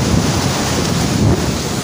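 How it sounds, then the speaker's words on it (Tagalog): Strong, heavy ocean surf crashing onto the shore at a fishing spot, a continuous loud roar of breaking waves mixed with wind buffeting the microphone, no voices. "Kaso nga lang sobrang lakas ng alon ngayon."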